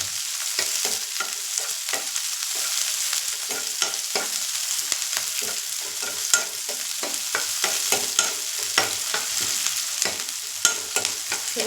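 Onions and dried red chilies frying in a pan, a loud continuous sizzle broken by frequent stirring scrapes and crackles, close and without voices.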